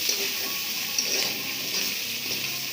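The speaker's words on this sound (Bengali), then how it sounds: "এই পটলটা কিন্তু এইভাবে ভাজি করি" Pointed gourd (potol) frying in a pan with onion and chili, a soft, steady sizzle and hiss heard close up with no talking.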